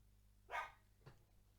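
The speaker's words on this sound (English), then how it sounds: "As my doggy decides she wants to bark." A dog barks indoors, one short sharp bark followed by a fainter second one about half a second later, fairly quiet and with no talk.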